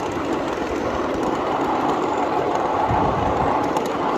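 A miniature freight train at Train Mountain coasting downhill on steel rails under light throttle, producing a loud, continuous close rumble with steady rail noise and faint clicking throughout.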